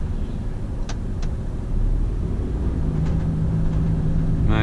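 A 4.5 m high 2016 Volvo FH 500 truck rolls slowly through crowded city streets, its engine a steady low rumble with a few brief clicks and squeaks over the drone.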